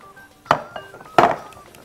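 Two bright clinks of a spoon striking a glass while mint syrup and custard are stirred together, closely miked and spaced about a second apart, with quiet background otherwise.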